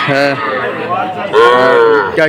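Sahiwal cattle at a livestock market low repeatedly, with several drawn-out moos close by that rise and fall in pitch and overlap one another.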